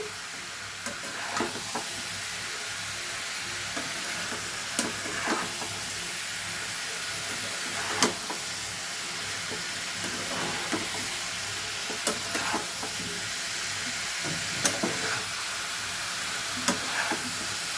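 Pasta being tossed and stirred in a hot frying pan: a steady sizzle and hiss with soft scraping stirs and occasional light clacks of the spoon, close and continuous.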